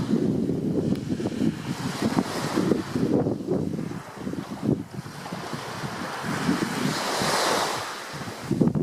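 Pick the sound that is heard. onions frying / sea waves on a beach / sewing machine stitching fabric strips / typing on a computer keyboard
sea waves on a beach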